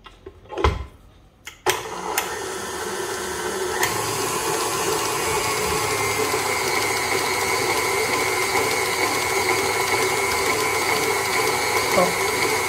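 Electric stand mixer beating cake batter for a pink leopard-print cake as eggs are added, a steady loud motor whir running continuously after a few knocks and thumps at the start.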